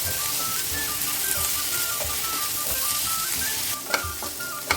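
Sliced onion and chopped green chillies sauté in a pan, a steady close sizzle under light stirring, with sharper scrapes and clinks near the end.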